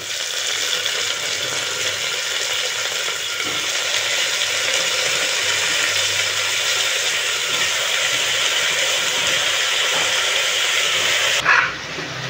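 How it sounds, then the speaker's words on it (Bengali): Potatoes dropped into a hot pan for aloo posto, a steady loud broadband sizzle that holds for many seconds close by, with a brief clatter near the end. "এবার আলুগুলো দিয়ে দিচ্ছি।"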